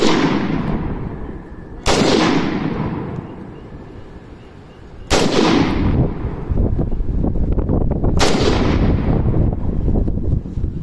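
Three loud, sharp shots from a PTR 91 rifle, an HK 91 clone, fired at a 30-yard range. The shots are spaced a few seconds apart, each followed by a long echoing decay outdoors.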